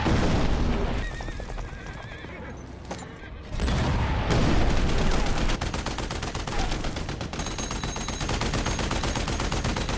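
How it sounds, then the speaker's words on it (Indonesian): A horse neighs and gallops amid bursts of gunfire and machine-gun fire in a loud action-film chase, with booms and a dense, continuous battle din. "Dengan kuda, Atami terus berlari, menghindari tembakan itu"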